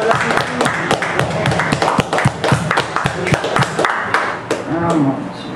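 An audience at a poetry event claps for a musician, a lively burst of many hands with distinct sharp slaps, fairly close and loud, with a voice briefly speaking near the end.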